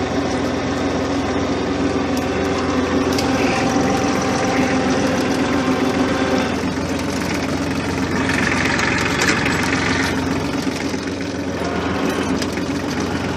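A Massey Ferguson 1433 4x4 compact tractor engine runs steadily at close range, a loud, continuous mechanical drone with rattling and clanking layered on top throughout, outdoors during log skidding work.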